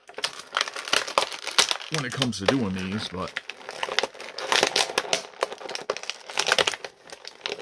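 Plastic crinkling and tearing as twist ties are ripped off wrestling action figure packaging, a dense run of crackling rustles and snaps with a person talking briefly partway through.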